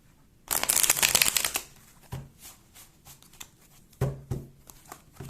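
Tarot deck being shuffled by hand: a dense, crisp riffle of cards up close, followed by softer taps and a couple of card slaps.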